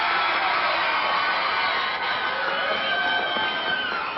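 Wrestling arena crowd cheering in a steady, dense roar that holds at an even level throughout, a distant wash of many voices with no single caller standing out.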